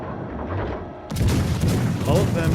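Cruiser main guns firing HE shells aboard the Weimar, a Tier 6 premium cruiser in World of Warships Legends, heavy booming salvos with rumbling impacts over game ambience.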